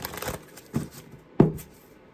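Tarot cards shuffled by hand, with three quick riffling bursts spaced across a couple of seconds, close and crisp.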